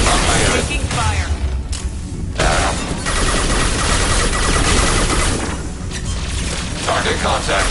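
Loud, dense gunfire from Mass Effect 2 combat, with rapid bursts and booming impacts running almost without pause, and voices speaking through the fighting.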